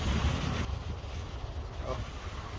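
Wind gusts over the microphone at Souris Beach, Prince Edward Island, a loud blustery rumble at first that eases into a steadier, softer rushing with faint surf beneath.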